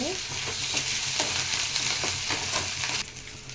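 Ginger-garlic paste with curry leaves fries in hot oil in a pan with a steady, close crackling sizzle and occasional scraping stirs, and no one talking.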